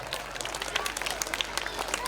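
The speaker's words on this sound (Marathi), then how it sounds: "जोरदार टाळ्या" Audience applause at a ceremony honoring guests, a dense patter of many hands clapping continuously at moderate volume, with crowd voices murmuring underneath.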